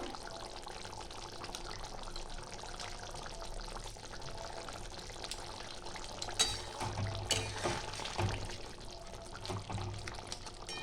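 Mustard oil is poured into a simmering katla fish curry, giving a faint bubbling and gurgling that rises briefly into a soft splashing pour midway before settling back to a low simmer.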